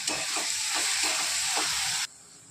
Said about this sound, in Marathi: आता टाकून हिंग। 5 मिनिटं परतून घेणार आहोत आपण।